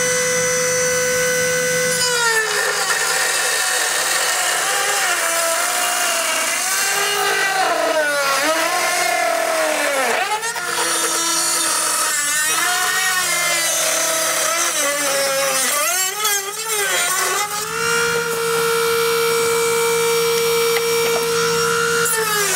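An oscillating power tool cuts plastic trim on a 2020 Mini Cooper during a hidden trailer hitch installation, with a loud, continuous buzzing whine whose pitch dips and rises as the blade bites and eases off.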